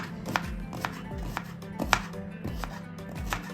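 A knife chopping an onion thinly on a cutting board, steady rhythmic thuds roughly every half second, close and clear, with no talk.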